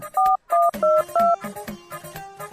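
A phone keypad beeps out a quick series of dialing tones, several short evenly spaced presses, then a softer ringing pattern follows.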